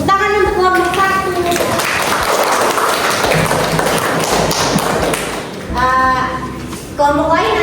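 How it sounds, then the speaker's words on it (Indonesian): Students in a classroom clap for a group after a chemistry answer, a burst of mixed clapping and tapping lasting several seconds, with a teacher's voice before and after. "Oke, tepuk tangan untuk kelompok 1."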